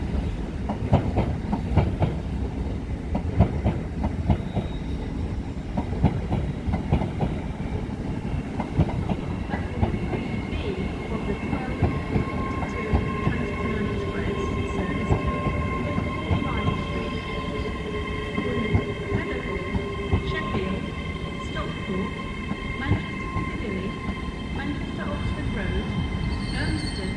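A ten-coach train moves through Doncaster station with rhythmic wheel clatter and tonal rail hum, station announcements heard over it throughout.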